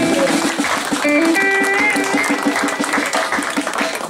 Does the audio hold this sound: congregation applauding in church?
yes